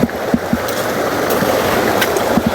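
Water rushes steadily in a stream or surging flow, a dense, continuous hiss and churn with a few soft knocks, close and fairly loud with no voices.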